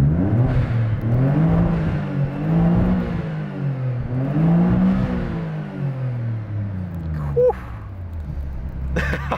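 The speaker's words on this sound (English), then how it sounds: "Rev test, yeah? Make sure it's not in gear." A Nissan 300ZX engine in neutral revs up and down in repeated rising and falling sweeps, loud and close, then settles back toward idle with a brief clunk near the end.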